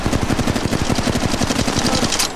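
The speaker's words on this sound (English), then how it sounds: "Getting shot at." Rapid automatic gunfire from a firefight in the mobile battle royale game Apex Legends Mobile, a dense, loud burst of evenly spaced shots rattling continuously for a couple of seconds with no talk over it.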